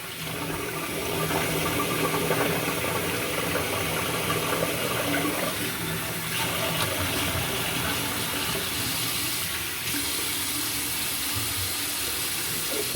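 Water runs steadily from a bathroom sink tap while a razor is rinsed, a continuous broadband splash at close range with no talking.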